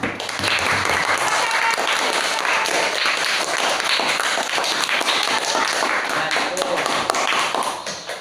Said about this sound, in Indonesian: kita kasih tepuk tangan buat yang menyampaikan presentasi dan yang menyampaikan kesimpulan